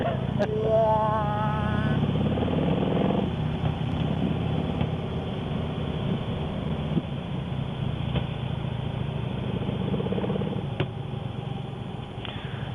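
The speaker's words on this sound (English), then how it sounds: "Now we got a synchronizing first gear tranny wind." A motorcycle at full throttle in first gear runs steadily with a rising, whining synchronized-gear transmission tone in the first few seconds, then settles into a continuous mechanical drone.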